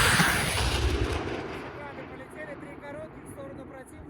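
An artillery battery of the Bashkortostan regiment firing, a loud boom at the start that fades into a long rolling echo, with faint whistling tones and distant rumble trailing after.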